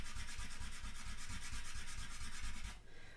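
Art pastels rubbed and smeared on paper, a fast rhythmic scratchy screeching with quick back-and-forth strokes, close and steady for about three seconds before stopping.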